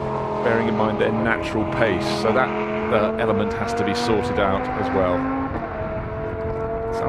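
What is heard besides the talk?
race car engine leaving the pits, Lamborghini Super Trofeo at Silverstone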